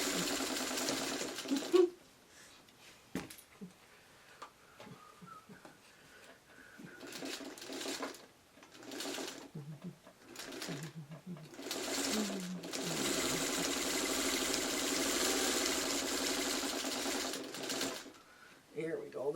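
A sewing machine stitching a quilt block runs in fast bursts, with stops between runs and a long steady stretch of stitching near the end, while someone talks over it.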